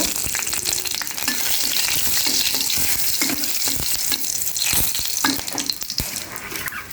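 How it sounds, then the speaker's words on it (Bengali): Cumin seeds and dried red chillies sizzle hard in hot oil, a loud, steady crackling fry with sharp pops and spatters running throughout, close by and alone. "আমি এবার একটু জিরের ফোড়ন দেব, একটু জিরের ফোড়ন দিলাম, একটু শুকনো লঙ্কা দেব"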